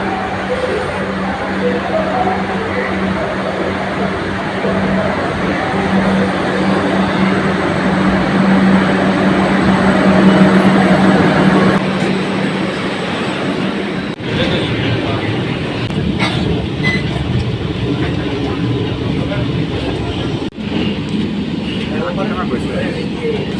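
A Kolkata metro train pulls into a platform with a loud rolling rumble and hum that swells then settles, a few sharp clunks later, while people talk over the noise throughout.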